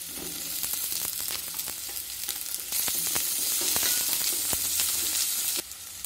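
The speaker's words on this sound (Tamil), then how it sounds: "தக்காளி வந்து நல்லா வதங்கிருச்சுங்க." Tomatoes and onions sautéing in hot oil for a samosa filling give a dense, continuous sizzle, with scattered utensil scrapes and taps throughout and a slightly louder stretch toward the end.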